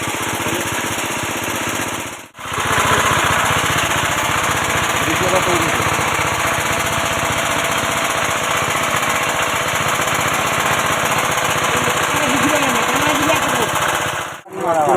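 Engine-driven machine running beside a fishing pond, a loud, steady rattling chug that continues almost unbroken, with two short dropouts, while voices talk faintly beneath it.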